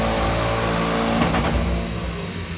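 Mercedes E55 AMG, about 650 horsepower, revving hard on a dyno, a loud sustained engine roar with strong low harmonics that eases off slightly near the end.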